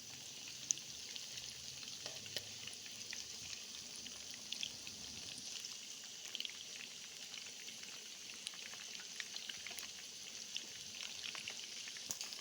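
Chicken pakora fries in hot oil, a steady bright sizzle and crackle with tiny popping bursts, continuous and fairly close with no talking.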